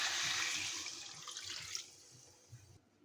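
Water pours steadily into a rohu fish curry with turnip to make broth, a bright rushing stream that thins out and stops within a few seconds, with faint clatter underneath.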